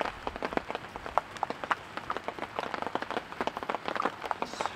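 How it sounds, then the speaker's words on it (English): Heavy rain patters at a wilderness campsite in the Yukon, dense irregular drops striking surfaces close by in a steady rapid crackle, with no talk. "The rain has really picked up, if you can't tell."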